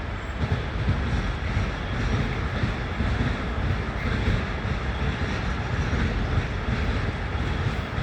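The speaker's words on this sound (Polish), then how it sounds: "Czekajcie, tylko pociąg przyjedzie." A steady, broadband rumble and roar of a train pulling in, continuous and fairly loud throughout, with no voices.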